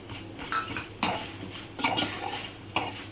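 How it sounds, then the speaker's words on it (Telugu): Cashews frying in ghee in a pan for upma, with stirring scrapes and clinks of a spoon against the metal pan over a soft sizzle, several distinct strokes, close and alone. "కాజు రెడ్గా వేగుతుంది"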